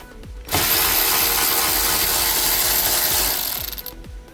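A power driver runs on the T20 bolts holding the dashboard vents of a Mini Cooper, whirring loudly and steadily for about three seconds with a faint ratcheting edge, framed by quiet clicks before and after.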